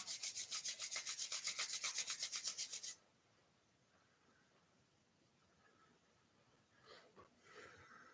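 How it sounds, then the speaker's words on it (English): Palms rub briskly together in a fast, even back-and-forth rhythm for about three seconds, close and loud, then stop, leaving a quiet room with faint movement. "rub the palms together and cup them gently over the eyes"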